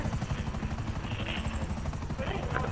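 Steady, thumping rotor noise of a helicopter in Grand Theft Auto V fills the clip, loud and continuous, with a voice partly mixed underneath.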